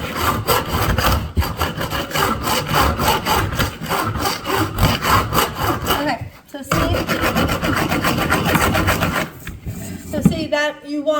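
Rough, vigorous scrubbing and scraping against the inside of a wooden bee box, pressed down hard in steady back-and-forth strokes, loud and close, with a brief pause before the rubbing resumes.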